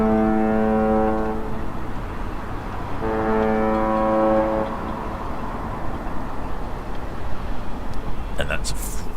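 Cruise ship horn sounding as the ship departs the Port of Southampton: two long, deep blasts about two seconds apart, loud and resonant over steady outdoor background noise, followed by brief crackly handling sounds.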